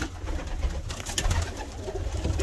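Racing pigeons coo softly and continuously at close range, their low rolling calls layered over a busy loft background with no talking.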